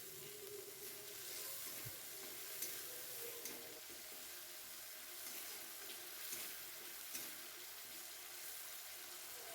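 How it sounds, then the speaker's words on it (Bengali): Spice paste of ground spices frying in oil in a wok for a Bengali doi potol dish, a steady soft sizzle throughout with faint clinks and scrapes, no talking. "শুধু বেটে রাখা মশলাটা ওতে দিয়ে কিছুক্ষণ ধরে ভালো করে কষিয়ে নেব লাল লাল করে"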